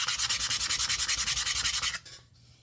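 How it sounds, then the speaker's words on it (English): Hand sanding across the flat face of a wooden comfort cross, a fast, steady back-and-forth scratching rasp repeated about a dozen times, close and loud, then stopping abruptly into near quiet. "You can sand the face of these like this here without having to go on a big belt sander and get the face of these nice and smooth."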